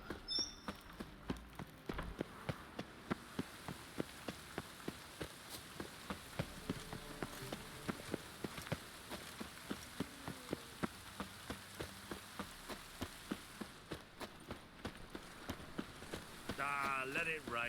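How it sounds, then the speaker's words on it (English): Rain falls in The Witcher 3: Wild Hunt, a steady wash of patter with scattered sharp drops, quiet and continuous, with faint game voices underneath. "Ah, let it rain."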